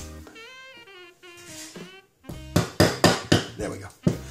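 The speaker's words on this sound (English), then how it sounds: "Now I can also hammer the other pin" A hammer drives a pin into the chassis of a Steyr L9 A1 pistol, giving a run of about seven sharp, evenly spaced metallic taps after a short stretch of unrelated tonal sound.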